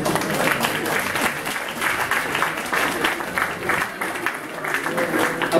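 Sustained applause from an audience at a 2015 NAC evening gala, dense and steady clapping that fills the hall without a break, with no one speaking over it.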